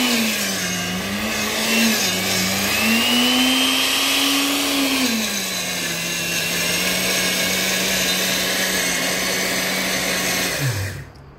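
An electric grinder runs continuously grinding pepper, a loud steady motor whine that shifts slightly in pitch, then winds down and stops at the end; no talk over it.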